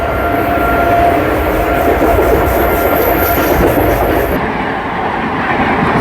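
A Mysore–Howrah train thunders past on the parallel track in a loud, continuous roar, its wheels clacking rhythmically before the noise thins slightly near the end.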